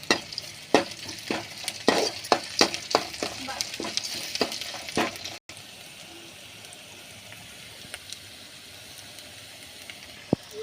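Onions and lentils sautéing in a pan for rava upma, first with a run of sharp spatula scrapes and taps over the sizzle, then a softer, even frying hiss left on its own.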